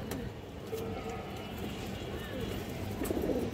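Domestic fancy pigeons coo in low, rolling, repeated calls close by, over a busy background hum of other birds and faint voices.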